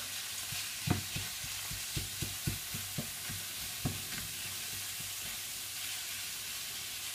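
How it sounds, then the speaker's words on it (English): Minced beef browns in a hot pan, a steady low sizzle broken by a quick series of spatula taps and scrapes as the meat is broken apart, then settling into quieter frying. "the minced beef goes in, break it all down, and you're just browning this off."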